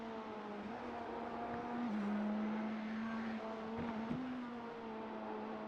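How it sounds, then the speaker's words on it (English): Race car engine in the iRacing simulator under long light braking into a corner: a steady, droning engine tone that dips and rises slightly in pitch, close and continuous throughout. "I'm just listening to all the car sounds as well"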